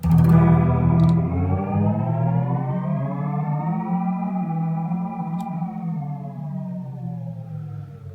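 A sustained distorted guitar chord bends smoothly in pitch through a BOSS MS-3 tape speed effect set to one octave, a gliding, siren-like warble that fades slightly.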